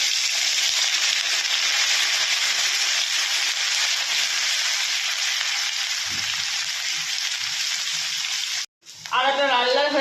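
Grated ginger frying in hot mustard oil in a wok with cumin seeds: a steady, close, bright sizzle that runs on evenly, then a brief break and a spoken voice at the end.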